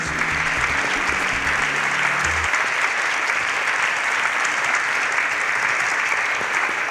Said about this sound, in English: A round of applause for both of them as they exit the stage